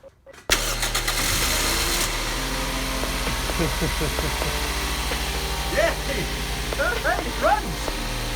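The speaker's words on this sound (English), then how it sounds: "The engine turning over" A Toyota Yaris engine, converted from automatic to manual for track use, cranks briefly and catches after a neutral safety switch bypass, then settles into a steady, loud idle with some mechanical clatter.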